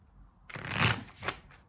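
A deck of tarot cards is shuffled by hand: one quick riffling burst lasting about a second, followed by a shorter flutter, close and crisp with no talking.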